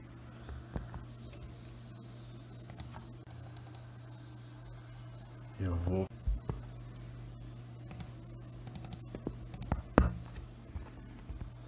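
Computer mouse clicks while erasing parts of a photo in GIMP: faint, sparse clicks and keyboard-like taps over a steady low hum, with a brief cluster of louder clicks midway.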